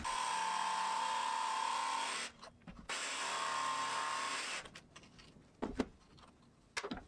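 A power saw with a tilted fence cuts angled ends on table leg pieces for a concrete-topped table. Two loud, steady whines of about two seconds each are separated by a brief pause, followed by quieter handling knocks.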